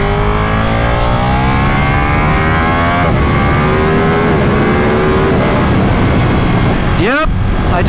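A Ducati 959 Panigale sport motorcycle revs hard at full throttle, its engine note climbing through the gears in loud rising sweeps, up close, with a rider's voice now and then over it.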